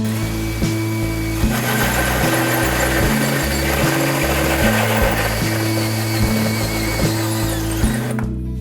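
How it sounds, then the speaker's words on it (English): A power drill bores through a ceramic subway tile backsplash, its motor whining loudly and steadily, with pitch dips and surges as the bit bites, running alone until it stops near the end. "then I'll drill all the way through"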